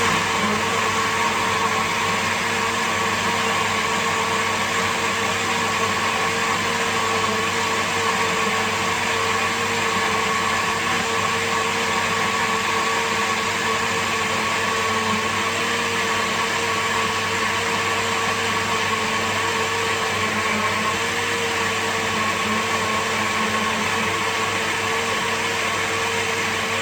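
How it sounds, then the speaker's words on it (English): A blender whirs steadily for close to half a minute as it purées Irish moss, linseed and isinglass, a continuous loud motor drone with a constant pitch and no talking over it. "now that I have blended my Irish moss and linseed and also isinglass"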